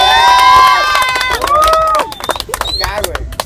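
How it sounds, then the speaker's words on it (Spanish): A lively crowd at a Volkswagen car club gathering cheers and shouts, with children's excited yells and whoops rising over a noisy burst that tapers off after a couple of seconds. "A ver, un aplauso."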